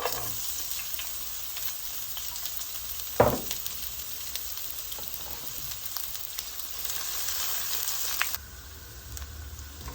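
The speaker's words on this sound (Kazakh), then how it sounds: "Жуамызды жақсылап қуырып аламыз." Onions sizzle and hiss steadily in hot oil, with a single loud clatter partway through and the frying quieting near the end.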